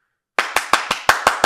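Sharp, evenly spaced claps ring out in a basketball arena for a Las Vegas WNBA home game, about seven loud rhythmic beats after a moment of silence.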